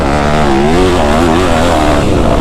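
A dirt bike revs hard while churning through deep, beach-like sand on a sand track, its loud, close engine droning with a wavering pitch as the throttle surges.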